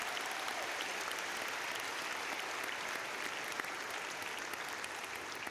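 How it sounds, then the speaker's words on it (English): An audience applauds with steady, dense clapping that keeps an even level throughout, filling the room with no voices rising above it. "please give a round of applause to Alan Lumpkin."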